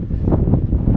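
Wind gusting across an open hilltop, buffeting a microphone with loud, rough low rumbling that swells and dips over a brief second.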